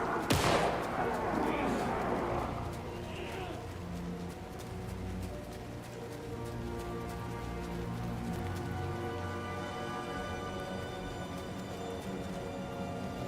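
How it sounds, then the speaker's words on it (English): Gunfire in the video game Alan Wake 2 (Night Springs DLC) opens with a sharp loud crack, followed by scattered fainter reports and a lingering tonal game score underneath. "I heard gunshots."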